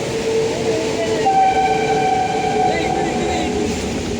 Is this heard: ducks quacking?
no